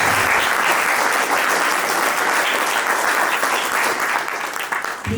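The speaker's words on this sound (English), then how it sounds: "So a huge round of applause for them keeping up with this tradition." At a Carnatic music recital, an audience gives a long, even round of applause, a thick continuous wash of clapping that holds steady before thinning slightly at the end.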